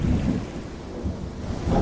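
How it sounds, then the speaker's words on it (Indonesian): Thunder rumbles alongside heavy rain, a dense low roar with steady wash and swelling rumbles near the start and end, with no voices. "Hujan lebat pun turun disertai dengan petir yang menggelegar."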